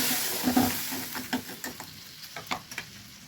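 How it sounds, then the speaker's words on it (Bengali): Fried lentil dumplings (bori) stir-fried in a watery spice paste, a soft bubbling sizzle with a few sharp spatula scrapes against the pan, close and fairly quiet, with no voices. "এখন এই যে মশলাটা গুলে রেখেছিলাম, বড়িটা কষাবো"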